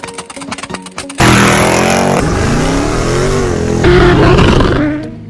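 A car engine revs hard for a drift, bursting in abruptly after a second of other sound, holding a loud, close roar with pitch swings and a second surge before cutting back down.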